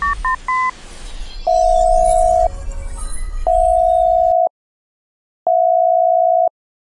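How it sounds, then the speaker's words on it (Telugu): A phone call starts with a few quick keypad dialing beeps, then a steady, evenly spaced ringback tone sounds in long beeps separated by silence, with no one talking. "మనోడికి ఫోన్ చేద్దాం."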